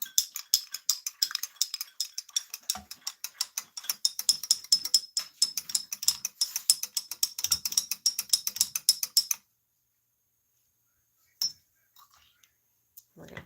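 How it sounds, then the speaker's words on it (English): A mixture being stirred briskly in a bowl, a fast run of repeated scraping, clicking strokes for several seconds, then stopping, followed by a few faint knocks. "And we're going to stir all that together."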